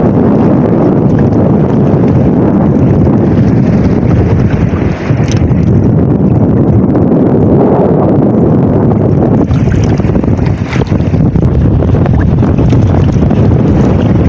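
Strong amihan monsoon wind at sea roars continuously into the microphone, loud and buffeting, with a low rumble of a boat underneath throughout.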